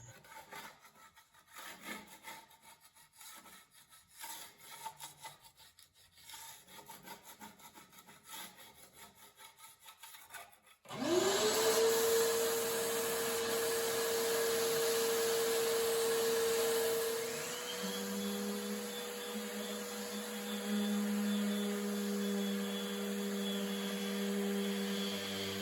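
Power sanding of a wooden round tabletop being refinished, after scraping off loose pieces; a loud steady machine drone starts abruptly partway through, preceded by quieter scraping and rubbing, and continues with shifting pitch to the end.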